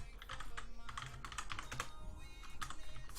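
Close fingers tap on a computer keyboard in a rapid, uneven stream of light clicks with brief pauses, no voices over it.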